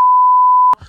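A single loud, steady censor bleep tone lasts most of a second to mask a spoken name, then cuts off abruptly into a brief murmur.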